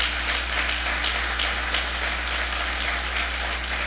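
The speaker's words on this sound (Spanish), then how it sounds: "Vamos, denle un fuerte aplauso a Jesús." Church congregation applauding, a steady wash of many hands clapping at moderate distance, even and continuous over a low steady hum.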